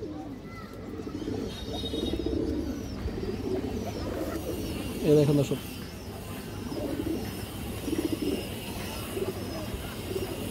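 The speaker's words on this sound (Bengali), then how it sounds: "এটা মূলত কালো গলা কবুতর" Black-throated pigeons coo in soft, repeated low phrases through much of the stretch, with someone talking over them and a brief louder bump partway.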